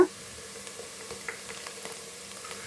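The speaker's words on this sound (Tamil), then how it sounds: "வெங்காயத்தை நல்லா வதக்கி விட்டுக்கோங்க" Onions and green chillies sauté in a hot pan with a steady, soft sizzle and occasional light crackles, close and fairly quiet.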